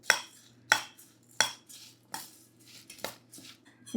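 Chaat is mixed in a bowl with tamarind-date chutney, dried chili and coriander, giving sharp, spaced clinks and scrapes of a utensil against the bowl, about six distinct knocks at an uneven pace, close and alone over a faint low hum.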